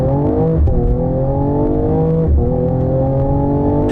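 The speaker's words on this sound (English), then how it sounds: "it has this great inline six, you know, that sort of beautiful rhythmic inline six kind of growly, throaty tone" A 2019 Mercedes-AMG CLS53 inline-six engine revs loudly up close, a smooth growling tone climbing and dipping in pitch with brief gear-change breaks, steady throughout.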